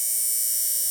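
A small DC motor running at 5 volts on a bench test hook-up spins with a steady, unbroken electric whine and buzz, close and continuous throughout with no voices.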